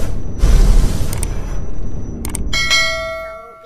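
A notification bell rings out in a bright, resonant chime with a clanging strike and a ringing tone that fades slowly, heard alone without talk.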